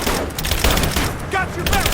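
Rapid bursts of automatic gunfire in Rise of the Tomb Raider, dense and continuous with booming reports, while shouted voices call out over the shooting.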